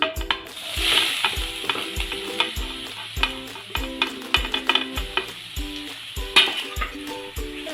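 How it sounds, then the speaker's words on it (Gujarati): Grated carrot sizzles and fries in hot ghee in a pan for carrot halwa. A steady hiss runs throughout, broken by repeated clinks and scrapes of a spoon stirring against the pan, with no voices. "ઘી બરોબર ગરમ થઈ જાય એટલે એમાં છીણેલું ગાજર નાખી દઈશું"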